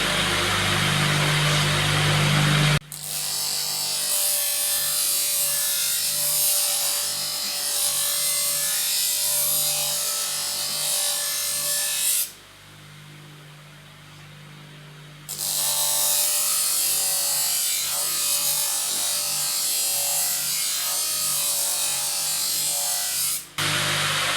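A knife sharpening machine rasps and whirs steadily, with a harsh abrasive hiss that briefly drops to a quieter hum midway before resuming.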